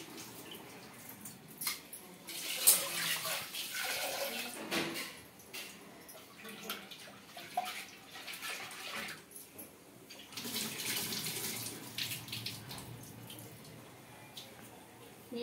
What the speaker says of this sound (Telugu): ఇంకా ఇక్కడైతే కందిపప్పు అయితే కడుక్కుంటున్నానండి.